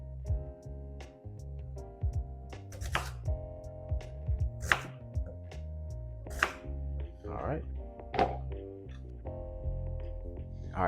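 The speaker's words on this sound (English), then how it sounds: "I'm just gonna cut it up in cubes." A knife cuts Japanese sweet potatoes with the skin left on into cubes on a board, sharp close chops landing in an irregular rhythm over a faint steady hum, with no speech.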